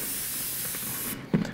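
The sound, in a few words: airbrush spraying black sealer onto Bo-Katan helmet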